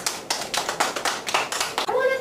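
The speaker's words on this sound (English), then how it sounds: "Let's give Sequoia a big round of applause" A classroom of children claps together in a quick, steady rhythm, about nine sharp bursts close by, with a voice rising briefly at the end.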